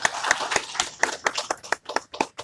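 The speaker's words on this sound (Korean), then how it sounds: "우리 박수로 하나님께 영광 돌리겠습니다." A church congregation claps together in praise, a fast run of sharp, distinct hand claps at fairly even spacing, moderately loud and close, with no talking over it.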